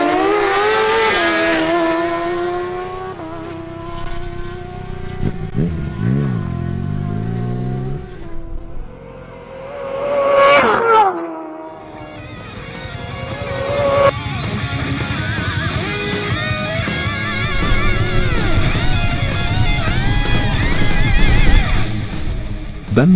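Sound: fast motorcycles racing quarter-mile drag race

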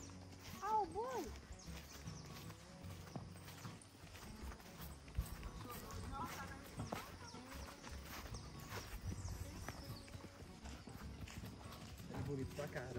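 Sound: horse hooves clip-clopping, horse limping

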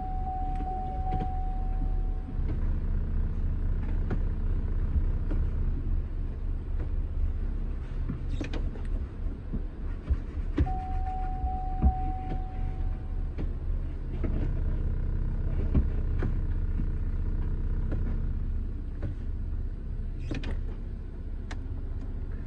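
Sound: Chevrolet car engine running while idling

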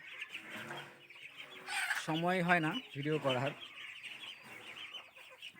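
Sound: chickens clucking

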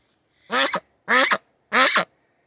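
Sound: female duck loud quacking

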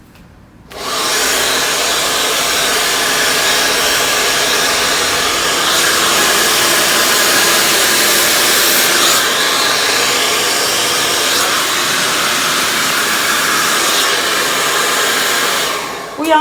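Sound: hair dryer blowing

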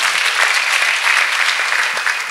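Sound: congregation clapping

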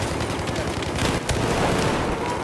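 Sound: gunfire in the video game Battlefield 4 Conquest

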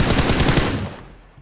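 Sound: gunfire in video game PUBG Mobile

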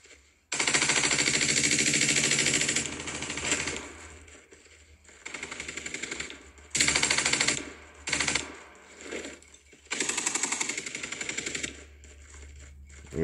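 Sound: gun hip fire in Rogue Agents video game

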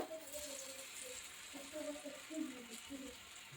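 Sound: eggplant slices shallow frying in a little oil

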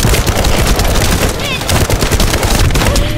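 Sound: gunfire in the video game The First Descendant

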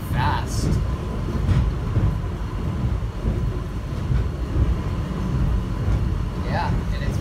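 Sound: airport subway train running fast

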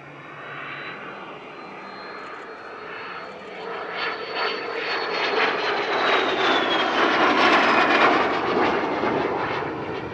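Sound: de Havilland Vampire FB6 jet fighter-bomber flypast

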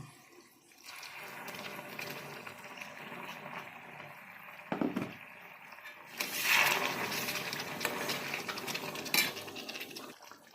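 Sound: hot water added to egg korma masala in a pan

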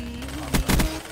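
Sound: Vesper gun firing in the Black Ops 3 video game

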